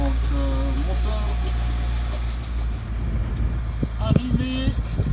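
The engine of a sailboat motors across a calm sea swell near the Greek islands, a low, steady drone under gusty wind noise, with a voice briefly audible near the end.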